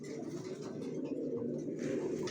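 A pair of racer pigeons with leg tags, one male and one female, coo softly and continuously at close range in low, throaty rolls.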